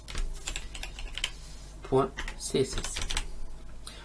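Someone types on a computer keyboard while writing CSS code, giving light, quick key clicks in short bursts that blend with a speaking voice.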